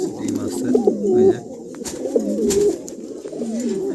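Andalusian pigeons, a breeding pair sitting on eggs at a pigeon market, coo close by in three repeated throaty, rolling phrases with short pauses between them.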